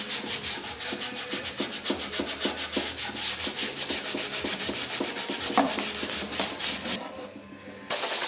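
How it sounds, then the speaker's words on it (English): Rhythmic back-and-forth strokes of 120-grit sandpaper rubbing around the wooden body edges of a Telecaster Thinline electric guitar being built, steady and close, ending in a brief pause. "now what I've got is just some 120 sandpaper. We'll go ahead and hit it around the edges"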